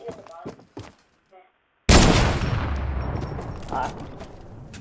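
A bolt-action sniper rifle fires in a first-person shooter game, one sharp loud blast with a decaying boom and rumble, preceded by brief bits of talk.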